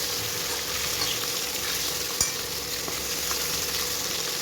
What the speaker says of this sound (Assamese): মাছ কেইপিচ ভালদৰে ইলুটি চিলুটি কৰি ভাজিলোঁ।